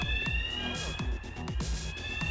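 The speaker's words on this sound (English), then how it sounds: "Might have set off some alarms." Alarms blaring inside a museum in the Hitman stealth game, heard as steady high electronic tones running throughout, with repeated thudding impacts and game noise underneath.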